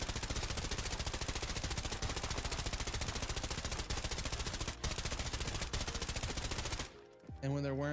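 The 995 weapon firing in the shooter game Arena Breakout: Infinite, long rapid bursts of automatic gunfire with a few louder single cracks, loud and close, ending abruptly before a short tonal effect.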